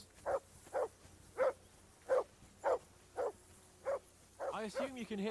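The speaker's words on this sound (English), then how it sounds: "assume you can hear that damn dog of yours barking" A dog barking in the video game Kingdom Come: Deliverance II, in a steady rhythm, seven evenly spaced barks at moderate distance, followed by a brief burst of overlapping yelps and noise.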